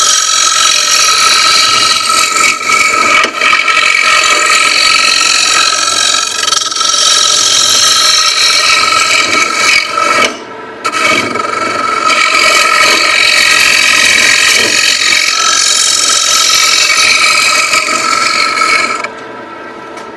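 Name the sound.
wood lathe hollowing a deep bowl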